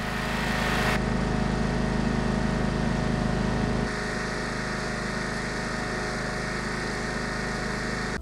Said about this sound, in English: Test number nine, a riding lawnmower.